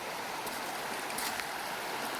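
A flowing river gives off a soft, steady rushing wash, faint and continuous with no voices.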